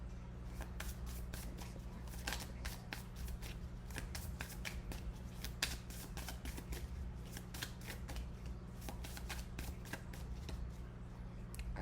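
Tarot cards handled and shuffled during a reading, a close, continuous run of crisp riffling snaps and papery flicks repeating throughout without talk.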